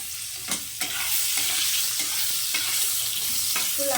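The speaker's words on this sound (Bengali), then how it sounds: "আলুগুলোকে আমি ভেজে নেব লাল লাল করে" Two medium potatoes frying in hot oil until reddish-brown, a steady close sizzle broken by repeated scraping and clacking from stirring in the pan.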